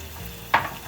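Patis sauce for son-in-law eggs sizzling in a pan, a steady low hiss with one brief, louder burst of crackling partway through.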